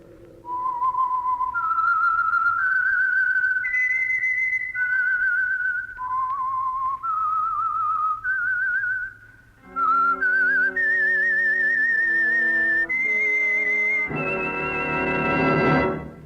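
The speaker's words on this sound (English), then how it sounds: "That whistle is your signal for the Signal Oil program, The Whistler." A melodic whistled theme for the CBS old-time radio mystery program The Whistler, a lone whistler carrying a rising and falling tune, joined near the end by a brighter orchestral swell with no talk over it.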